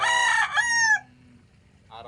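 A single rooster crows loud and close, one strong drawn-out call ending around the one-second mark, then quiet with a faint tail of a second call.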